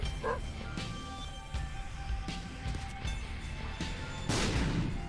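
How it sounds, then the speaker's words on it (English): A dog barks a few times amid the busy, noisy soundscape of The Binding of Isaac game, short sharp yelps scattered over continuous game noise and effects. "I heard the barking."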